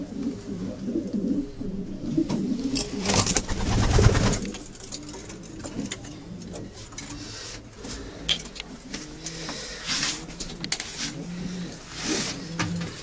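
Racing pigeons in their loft coo in soft, repeated low calls through a steady murmur of birds, with a few louder rustles and wing flutters near the start.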